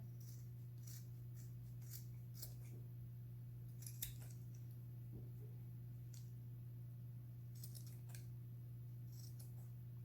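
Scissors snip repeatedly in short, crisp clicks, irregularly spaced, trimming a yarn tassel even, over a steady low electrical hum.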